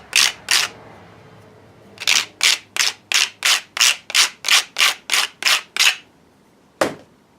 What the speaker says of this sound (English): Take the burrs off the inside and outside both.